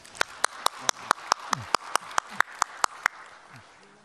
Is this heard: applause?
yes